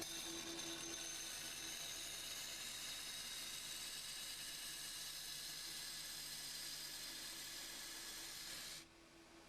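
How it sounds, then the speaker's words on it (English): Industrial tube notcher with a belt grinding roller cutting into a 60 mm steel pipe, a faint steady abrasive hiss and whine that holds for several seconds, then cuts off abruptly near the end. "Fit the pipe, clamp it and push it against the grinding roller using the feed handle."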